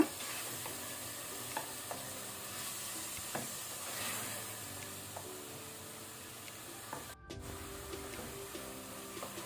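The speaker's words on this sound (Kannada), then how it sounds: "ಈಗ ನಾವು ನೆನೆಸಿಟ್ಟ ಮಸೂರ್ ದಾಲನ್ನು ಹಾಕೊಳ್ಳೋಣ. ಸ್ವಲ್ಪ ಹೊತ್ತಿದ್ದನ್ನು ನಾವು ಒಗ್ಗರಣೆಯಲ್ಲಿ ಫ್ರೈ ಮಾಡ್ಕೊಳ್ಳುವ" Soaked black masoor dal fries in a spiced tempering over medium-high flame, giving a steady close sizzle broken by occasional stirring scrapes, with no talk.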